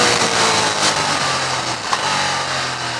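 A 2015 Ducati Diavel with a 160-horsepower V-twin engine on a fast country ride: a steady, loud engine roar mixed with wind rush, held at an even pitch for a few seconds.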